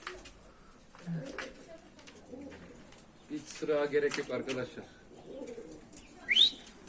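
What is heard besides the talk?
pigeons cooing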